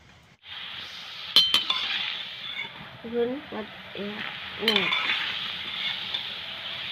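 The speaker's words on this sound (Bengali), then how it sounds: "সবগুলি কটকটি তৈরি করে নিয়েছি, এবার তেলে ভেজে নিচ্ছি।" Sweet katkati pieces dropped into warm oil in a wok, with a steady broadband sizzle throughout, a couple of sharp metallic clinks near the start and another later, and a voice speaking briefly over the frying.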